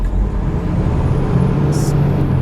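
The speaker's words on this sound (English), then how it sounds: "8:10 p.m. and there's just like a lot of traffic here." Heavy evening road traffic heard close by, a loud continuous rumble of engines with a brief hiss like an air brake release partway through.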